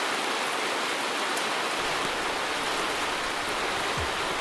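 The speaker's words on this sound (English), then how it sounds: "In the rain, here we go." Steady, dense rain falls outdoors with a constant hiss and scattered drops, continuous and fairly loud throughout.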